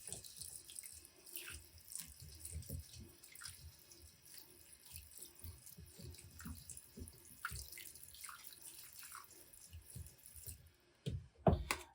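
Water runs from a sink tap into seed-starting soil to dampen it for winter sowing, a steady close splashing and trickling that continues for most of the stretch, with a few louder knocks near the end.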